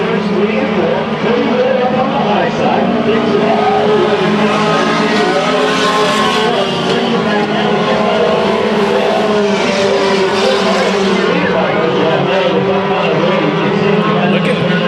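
Race cars roar around the dirt oval at Bakersfield Speedway during heat races, a dense continuous engine drone with layered harmonics at steady loudness throughout, with a commentator talking over it.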